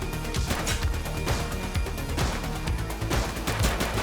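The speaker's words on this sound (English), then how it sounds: "He's shooting!" Gunfire in the video game The Precinct: repeated sharp shots crack over a dense, loud backdrop of action noise and music.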